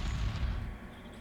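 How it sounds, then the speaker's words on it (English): Explosions in the Flash Point: Fire Rescue firefighting video game: a heavy, low rumbling boom that is loudest at the start and then rolls off into a softer sustained roar over about a second. "Explosions!"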